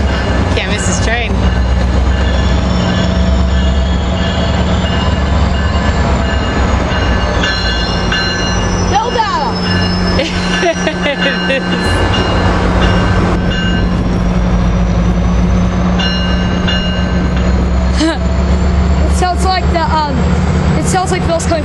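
A train rolls past at close range at Fullerton Railroad Days, a loud, continuous roar of wheels and rail clatter with occasional squeals and rumbling that lasts the whole stretch, while voices murmur beneath it.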